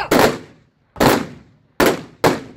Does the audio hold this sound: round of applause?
no